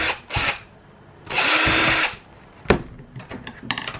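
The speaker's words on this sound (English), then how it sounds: "A couple of 3mm holes. Make sure that they've drilled all the way through." A power drill bores 3mm holes, sounding as a short burst near the start and then one loud sustained whine lasting about half a second, followed by quieter handling clicks and knocks.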